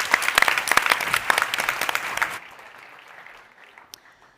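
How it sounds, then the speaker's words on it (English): An audience at the Startup World Cup Austria 2023 pitch competition claps for a startup's pitch: dense, lively applause for about two seconds, then it quickly thins into a faint, scattered patter that dies away. "Big round of applause for Holoid"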